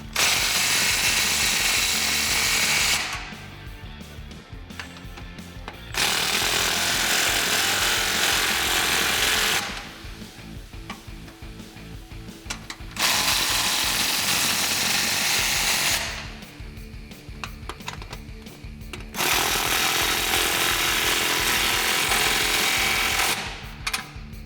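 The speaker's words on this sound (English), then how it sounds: "Now I'm going to line everything up and tighten these 4 clamps up." Socket tool tightening exhaust clamps on a 2015-2017 Mustang GT cat-back exhaust, four loud rattling bursts of power-tool impacts of about three seconds each, separated by quieter pauses.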